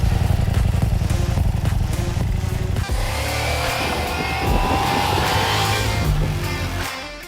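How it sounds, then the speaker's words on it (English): A Ducati Diavel V4 motorcycle ridden hard, its V4 engine pulsing with a deep, rapid throb, then a gear change and rising acceleration roar before the revs drop away. "The Ducati Diavel V4 is truly the devil's ride."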